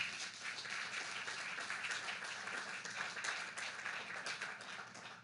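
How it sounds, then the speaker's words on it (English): Steady crowd applause, a dense wash of many hands clapping continuously at even loudness for several seconds, with no voices on top. "I think they deserve another round of applause"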